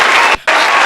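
A crowd applause sound effect plays loud and dense, a continuous wash of clapping and cheering that breaks off briefly in the middle and then resumes.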